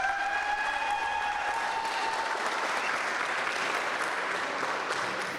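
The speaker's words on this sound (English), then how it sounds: "One big round of applause for Bruce, please." Steady applause from a crowd at a four-wall handball finals event, fairly faint and distant, with a brief tonal hum at the start.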